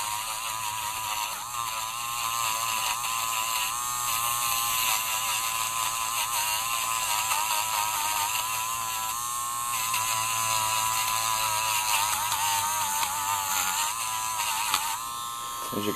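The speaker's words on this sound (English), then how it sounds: "I'll just take this Dremel, set it on the low setting." A Dremel rotary tool on its low setting polishes a raw metal miniature, giving a steady close whirring buzz with slight wavering pitch that runs the whole stretch without pause.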